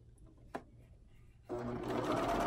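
A sewing machine stitches elastic into a garment seam, starting with a brief tap and then running in a loud, steady close-up whir for the last second, with no talking over it.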